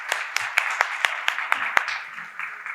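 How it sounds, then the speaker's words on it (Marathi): A small class audience in a finance lecture applauds briefly, with a loose patter of individual claps rising from the room over a steady hum. "ह्यासाठी एकदा टाळ्या होऊन जाऊ दे"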